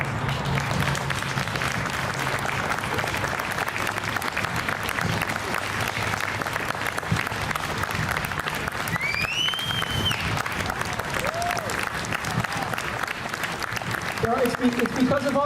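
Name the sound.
applause for veterans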